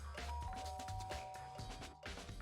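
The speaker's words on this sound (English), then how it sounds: "I press the doorbell." A doorbell ringing inside the Danganronpa video game, a two-tone ding-dong chime over ongoing game music and background sound, fairly quiet in the mix.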